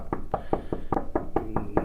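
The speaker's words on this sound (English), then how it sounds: "And here we are knocking again" A door being knocked on nine times at a steady brisk pace, sharp solid raps close by with no voices.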